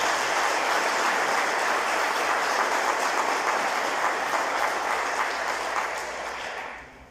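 An audience at an anniversary ceremony for an astrophysical observatory applauds, a dense, loud wash of clapping that holds steady before tapering off at the end.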